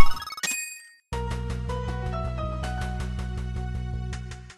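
Coin payment chime from the video game Rhythm Paradise Megamix: a quick burst of bright, tinkling bell-like dings, a brief silence, then a bouncy, steady-beat electronic music loop with plucky notes.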